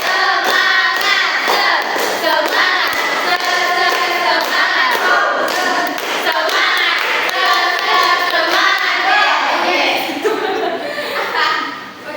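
A school class performs rhythmic spirit clapping in set patterns, bursts of sharp claps in counted sequences, loud and close, with children's voices and a teacher calling out the rounds between them.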